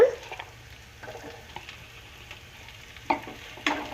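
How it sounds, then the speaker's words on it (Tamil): Carrot pieces sautéing in a pan for coconut milk rice, a faint, low sizzle with a few soft spoon scrapes and clinks against the pan, no talking. "கேரட் ஒரு பாதி அளவு வதங்கட்டும்."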